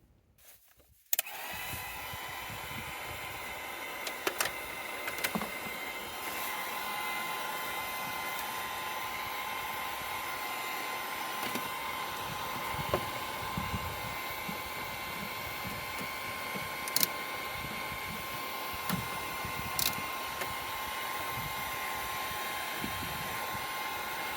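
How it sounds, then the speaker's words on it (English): A heat gun blows steadily on a pipe while a HotSpring spa heater is being replaced, giving a continuous, close, even whirring roar that starts suddenly and runs unbroken, with a few faint clicks and knocks over it. "And a heat gun. So we have to heat up the pipe, and then so we can pull it off."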